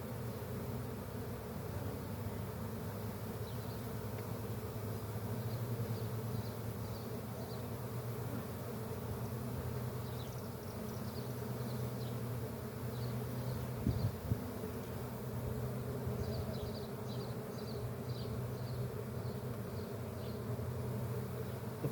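Honeybees buzz in a beehive infested with small hive beetles, a faint steady drone from close by with occasional chirpy bird-like sounds in the background and no talk.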